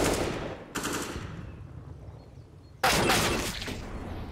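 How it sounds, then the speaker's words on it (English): Sharp, loud gunshot bursts from a USP pistol in Counter-Strike during an Inferno match at a DreamHack Open esports event, with two distinct bright cracks a couple of seconds apart over game ambience. "USP headshot"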